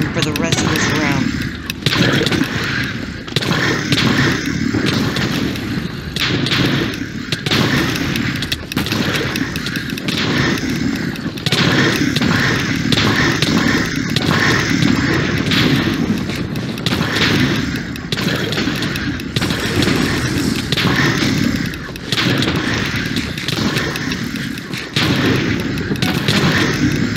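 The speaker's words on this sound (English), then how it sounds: "I shall use my shotgun for the rest of this round." Shotgun blasts in Minecraft's The Blocking Dead zombie-horde minigame, fired again and again in rapid, steady bursts over a dense din of game noise, with speech running underneath throughout.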